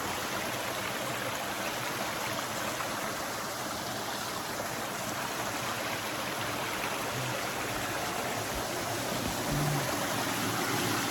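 Continuous rushing and splashing of a small waterfall in a creek, steady and close, with no voices.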